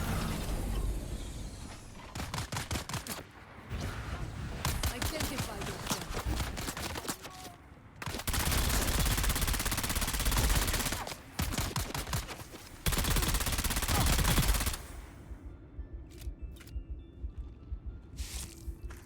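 Gunfire in the video game Dune Awakening, long stretches of dense rapid shooting broken by short pauses, loud and mechanical, with chattering metallic clatter and a quieter tail at the end.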